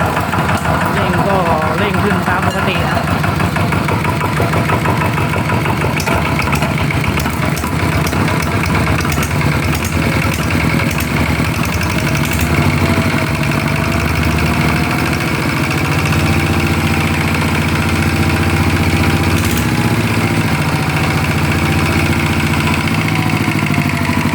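A Kubota engine over ten years old idles steadily and loudly throughout, a continuous mechanical drone with faint repetitive tapping mixed into its rhythm.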